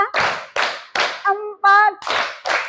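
Children clapping together in a counted rhythm during a school physical education warm-up, a series of sharp, loud group claps with short gaps between them, and children's voices chanting in the middle.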